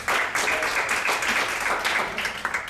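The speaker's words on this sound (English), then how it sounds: "Give him a big round of applause." An audience at a talk on public speaking gives a participant a round of applause, a dense burst of clapping that starts abruptly and stays strong and close throughout.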